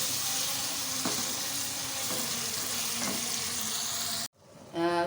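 Tomatoes fry in a pan for a whole moong dal dish, giving a steady close sizzle with a few light stirring taps, then a sudden cut to near silence before the frying sound returns.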